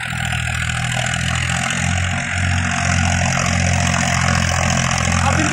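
Recorded right at the exhaust silencer of a Farmtrac 45 Smart Classic tractor, the engine idles with a steady low drone and rises slightly partway through, loud and close, with no voices.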